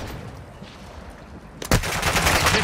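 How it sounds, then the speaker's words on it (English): Gunfire in the video game Warzone: quiet ambience at first, then a sharp shot followed by sustained rapid firing that stays loud to the end. "Taking effective fire."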